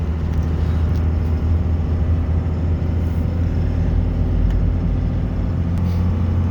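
A Fendt 1167 tractor with a 670-horsepower engine drives along, heard from the cab as a loud, steady low engine drone and rumble that holds constant throughout, with no voices.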